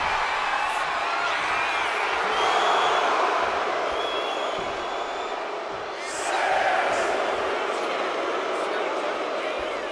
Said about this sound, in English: crowd here at Nitro are not liking what they see